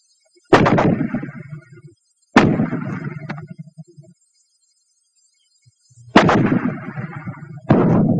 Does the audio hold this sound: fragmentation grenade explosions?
yes